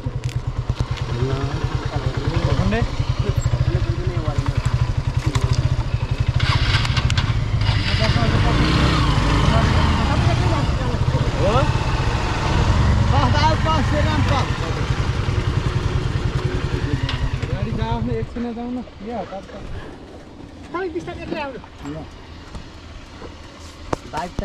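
A motorcycle rides a rough, rocky off-road track between Bhakunde Besi and Dapcha, its engine droning loud and close with rattling clatter while people talk over it, before the engine fades away near the end.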